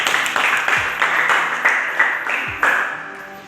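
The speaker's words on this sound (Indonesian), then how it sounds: "tepuk tangan bersama" Small classroom group clapping together during a maths teaching practice lesson, a short patter of hands with several louder claps standing out, close and moderately loud, fading after a few seconds.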